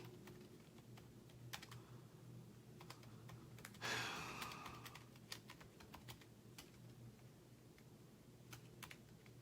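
Keys clatter on a keyboard in a steady run of sharp, close clicks over a low hum, with one louder burst partway through and no talking.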